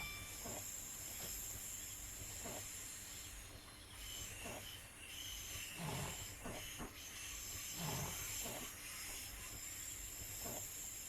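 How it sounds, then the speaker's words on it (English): A Class 466 train slowing to a halt in snow on the London–Faversham line, with low rumbling, hissing and brief squeals from the wheels, heard from inside at moderate volume. "We're going to bring the train to a stop as fast as possible"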